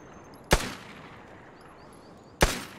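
Two sharp, loud gunshots from the online survival shooter game Vigor, the first early and the second about two seconds later, each with a short decaying tail over a quiet background.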